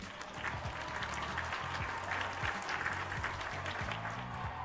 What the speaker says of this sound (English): I need to clap and cheer for that